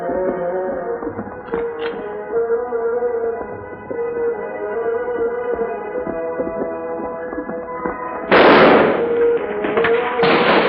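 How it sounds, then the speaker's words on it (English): A radio drama's rifle shot effect: two sharp, loud cracks in the final seconds, following a stretch of steady tonal background music. "Rifle shot, Tonto."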